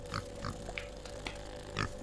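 Grunting pig-fly creature in the video game The Inner World, a few short snorting grunts spaced across the moment over a steady low game background hum.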